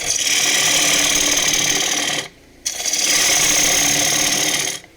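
A gouge cutting a wooden tray on a wood lathe gives a loud, steady rasping hiss, close and continuous, breaking off for a brief pause before resuming and stopping at the end.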